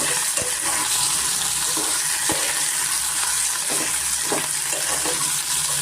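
Potatoes frying in oil on a medium flame for a curd potato masala, giving a steady close sizzle with scattered crackles and an occasional tap of a utensil.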